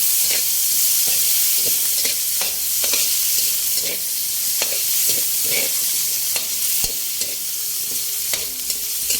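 Onions fry in a hot pan, a steady loud sizzle broken by repeated scraping knocks of stirring, close by with no talking.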